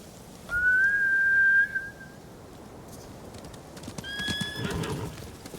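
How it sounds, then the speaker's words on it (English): Samurai horses in the video game Ghost of Tsushima give a loud, drawn-out whinny, then hooves clatter and another high neigh follows, with rustling ambience underneath. "Bastards scared off the horses. They're samurai mounts, trained to return to their masters."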